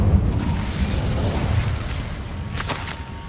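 An Incendio fire spell in Hogwarts Legacy erupts as a roaring, rumbling blast with crackling bursts, loud and sustained throughout, with a few sharper pops toward the end.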